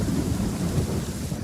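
Heavy rain shower with rumbling thunder from a Wonka film scene, a dense steady downpour roaring low and continuous with no pauses.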